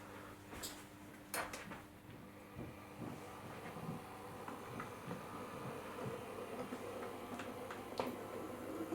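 Hornby Class 8 model shunter locomotive running on a model railway track at low speed, a faint whirring motor with light irregular wheel ticks and clicks over the rails, heard alone in a quiet room.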